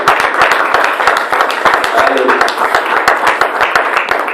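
A church congregation at a Sunday service in Brussels claps in a fast, steady rhythm, the close, crisp hand claps running without a break.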